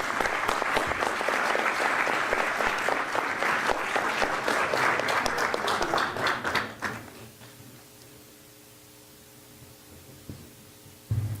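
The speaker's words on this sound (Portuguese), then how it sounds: "Uma salva de palmas assim" An audience at a year-end awards ceremony applauds with dense, steady clapping for about seven seconds. The clapping then fades out, leaving a quiet room hum.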